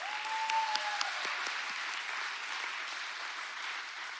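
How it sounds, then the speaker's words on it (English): An audience applauds at a Boys & Girls Club Youth of the Year event, steady sustained clapping from a sizable crowd that holds an even level throughout, with no speech over it. "Please join me in giving them a round of applause."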